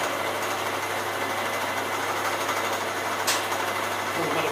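An old milling machine used as a drill press bores a hole in metal, giving a steady whirring motor drone with a continuous broadband hiss, close and loud, with no talk.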